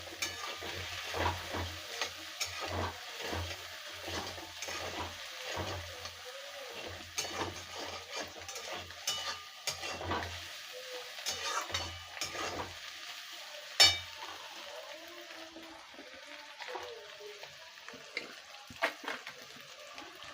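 Egg vermicelli with coriander leaves is stir-fried in a pan, with repeated soft scraping and clacking strokes over a low, quiet sizzle that thins out toward the end.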